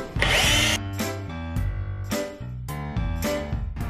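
A power drill unfastens the screws on the battery cover of a Veteran Sherman electric unicycle, giving one loud, close whirring burst at the start, followed by quieter tonal mechanical sounds.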